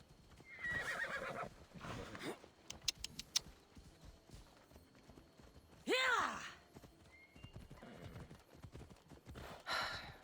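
Horse hooves clip-clopping in Assassin's Creed Odyssey, with a loud whinny partway through and another near the end; the rhythmic hoofbeats come in bursts at moderate loudness, with no talk over them.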